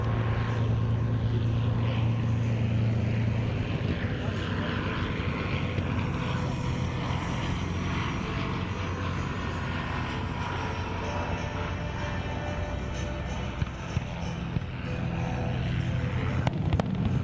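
A BE2 First World War biplane flies at the Duxford airshow, a steady droning propeller engine heard at moderate distance over outdoor crowd ambience, with a low hum at the start.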